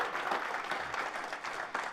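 An audience claps steadily for about two seconds at a moderate level, a dense patter of hands with no voices over it.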